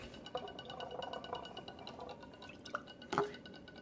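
Homebrew yeast starter is poured in for a Maris Otter and Cascade single-malt, single-hop brew, giving soft wet dripping and splashing, with a brief glassy clink near the end.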